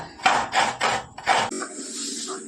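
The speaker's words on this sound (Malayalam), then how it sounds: "അപ്പോൾ അമ്മ ഇതാ അവിടെ ചേനത്തണ്ട അരിയാണ് കേട്ടോ" Four quick, crisp chopping strokes on a board in a steady rhythm as elephant yam stalks are cut, close by, followed by a softer hiss and faint kitchen clatter.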